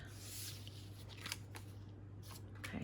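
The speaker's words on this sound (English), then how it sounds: "let's cut a couple of tags for each one" Scissors snip through paper tags for a double loaded pocket craft, several short crisp cuts spaced irregularly over a low steady background hum.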